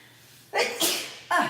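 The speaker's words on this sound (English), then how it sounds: "I just sneeze because it's probably a little bit of the baking soda dusting in there" Sneezes set off by baking soda dust, a sharp burst followed by a second quick one and then a third after a short pause, close and loud.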